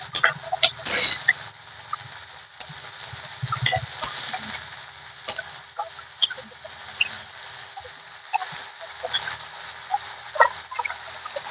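Cabbage and potato being stirred and fried in oil for a vegetarian cabbage ghonto, heard as quiet intermittent scrapes, clinks and soft crackles of a spatula working through the pan.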